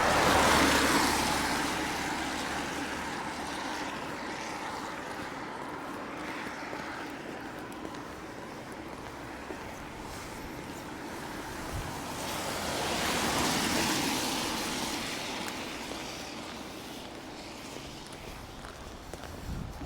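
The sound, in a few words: floodwater flowing in the River Waveney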